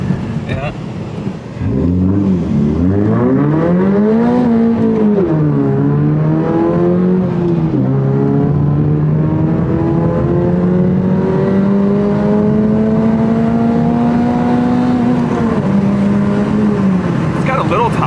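A Toyota GR86 with a Tomei exhaust revs hard, its engine note sweeping up and down through several climbs before holding a long rising pull, loud and close, with people talking.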